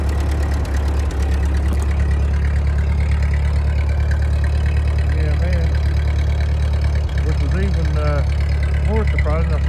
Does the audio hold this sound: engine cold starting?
yes